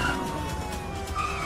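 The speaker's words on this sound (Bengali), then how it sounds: "এতগুলো পুলিশের গাড়ি" Several police cars go by on a road, a steady engine roar under thin wailing siren tones that rise again toward the end, fairly close and loud with no talking.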